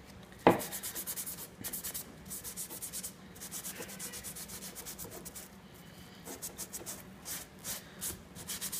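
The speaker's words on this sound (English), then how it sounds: "use a wire pad or a Scotch-Brite pad to just finish buffing it up around the edges and get the rest of that rust off" Steady rasping scrubs of a wire pad buffing rust off the edges of pruning shears, close and moderately loud, with a sharp knock near the start and irregular rubbing strokes throughout.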